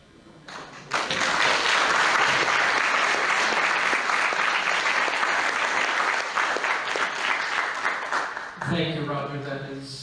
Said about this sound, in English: Let's all please give Charlotte a wonderful round of applause